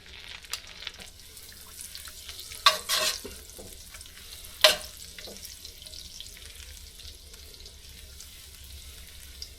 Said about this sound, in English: so while my butter's melting